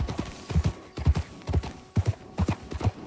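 Horse hooves clip-clop in a steady galloping rhythm in the video game Red Dead Redemption 2, close and clear, with repeated groups of thudding hoofbeats and no talking over them.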